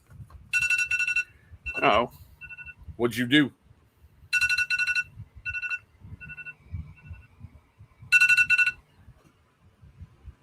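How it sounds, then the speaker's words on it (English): Phone alarm ringing in short bright electronic bursts, three separate rings spaced several seconds apart, loud and close, with people talking briefly between them. "It's a dang alarm."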